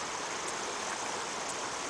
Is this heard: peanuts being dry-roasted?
no